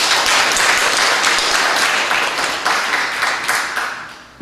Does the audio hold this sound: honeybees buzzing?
no